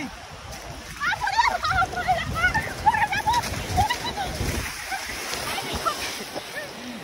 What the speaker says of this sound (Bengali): এই যে ঢেউ, লাফা লাফা